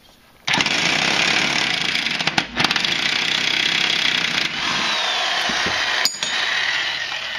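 An impact wrench works the spindle pulley nut on a Craftsman 42-inch mower deck, a steady loud rattling hammer that starts abruptly and holds for about seven seconds with a couple of brief dips.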